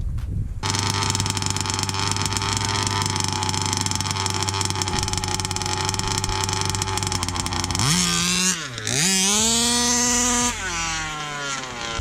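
A cold Ezeetrade 10x engine in a Baja 5B RC car runs loud and close, holding a steady buzzing idle before revving up and down in sharp rising and falling bursts.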